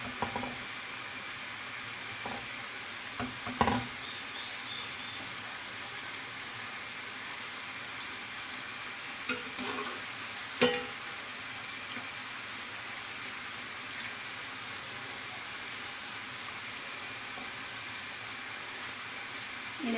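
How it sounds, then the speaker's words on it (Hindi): Mixed pakoras fry in hot oil with a faint, steady sizzle, broken by a couple of soft clinks and taps as the pieces are turned. "एक साइड से जो है पकोड़े फ्राई हो गए हैं, मैं दूसरी तरफ से पलट दूंगी सबको"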